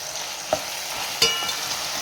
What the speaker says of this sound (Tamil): நம்ம கொஞ்சம் இஞ்சி பூண்டு பேஸ்ட்டு சேர்த்துட்டு நல்லா கலக்கி விடுங்க